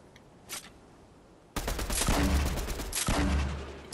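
Fortnite gunfire sprayed into a wall: after a quiet stretch with one faint shot, a loud, sustained burst of rapid shots with a brief break before more firing.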